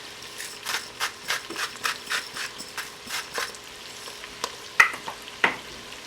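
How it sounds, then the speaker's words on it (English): Carrots and onions frying in bacon fat for beef bourguignon, stirred in a pan: a steady sizzle broken by a rhythmic run of about a dozen scraping stir strokes, then two sharper clacks near the end, close and clear with no talk. "Give that a stir."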